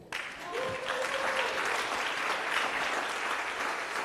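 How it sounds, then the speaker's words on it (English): An audience claps for speaker Tshireletso Mokate, a dense, sustained burst of applause that starts abruptly and holds steady throughout, with a faint voice briefly audible near the start. "If you guys, if you want to clap, you can clap."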